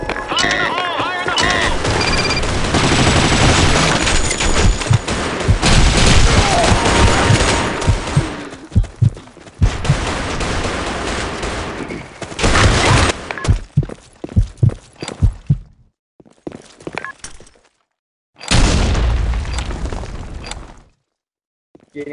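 Loud explosions and bursts of rapid gunfire in a video game, dense and chaotic at first, then thinning into separate shots and blasts with silent gaps, with a voice shouting briefly.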